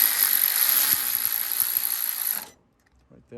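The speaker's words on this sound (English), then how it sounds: "Just remove the bolt that's here." A ratchet whirs steadily while a bolt is backed off a valve cover bracket on a 2008–2013 Nissan Rogue, loud and close for about two and a half seconds, then stops abruptly, leaving near silence with a faint touch at the end.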